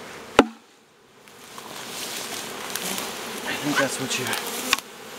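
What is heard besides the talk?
swarm of bees buzzing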